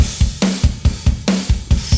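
Loud rock drum groove played back through saturation processing, with punchy kick and snare hits in a steady beat and crashy cymbal wash on top, no voices.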